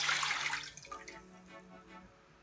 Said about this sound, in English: I add a cup of water into the pot.